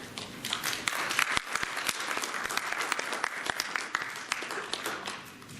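An audience at a sports medicine talk applauds to welcome a speaker, a dense, steady round of many hands clapping that carries evenly at moderate loudness throughout, with a few sharper individual claps standing out.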